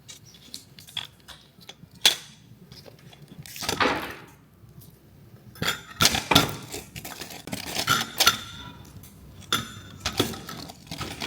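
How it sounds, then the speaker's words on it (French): Ice cubes dropped into a glass of coffee make a series of bright clinks and clatters, irregular and close, with quieter handling noises between the hits over a low room hum. "Vous mettez les glaçons."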